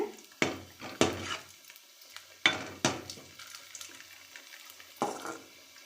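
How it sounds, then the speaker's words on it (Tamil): Okra frying in hot oil sizzles quietly while a utensil scrapes and clinks against the pan in several sharp, separate strokes. "இது பாருங்கள் எப்படி பொரியுதுன்னு"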